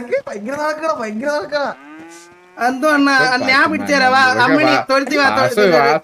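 A cow gives a single drawn-out, rising moo in the middle, with people talking loudly before and after it.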